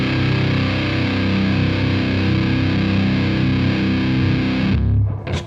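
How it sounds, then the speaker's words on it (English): Electric guitar played through a Biyang DS12 distortion pedal with the gain turned up, a loud, dense, sustained fuzzy drone of chords ringing continuously before cutting off abruptly near the end. "let's add some more distortion and just see how it feels"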